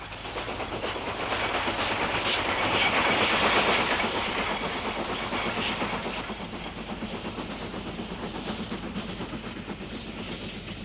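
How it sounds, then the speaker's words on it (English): A steam train, a Black 5 locomotive, rolls steadily along the rails with a continuous hissing rumble and rhythmic clatter, swelling slightly as it passes, no voices. "the last official steam train to be run by British Rail"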